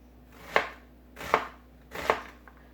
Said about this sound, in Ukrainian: Сейчас я наріжу цибульку